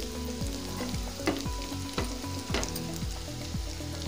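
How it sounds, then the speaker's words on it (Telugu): Crushed ginger and garlic fry with onions and sweet corn in a pan for tomato rice, giving a steady close sizzle with periodic scraping stirs and a few louder crackling bursts, no voices. "అల్లం వెల్లుల్లి పచ్చివాసన పోయేంత వరకు వేయించుకోవాలి"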